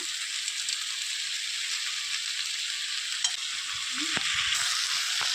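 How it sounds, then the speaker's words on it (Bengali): Malabar spinach cooking with red lentils in a frying pan sizzles in a steady hiss, while a few scraping strokes and metallic knocks of the stirring spoon come near the end, close and with no speech. "এবার আমি এটাকে ভালোভাবে কিছুক্ষণ নেড়ে নিব"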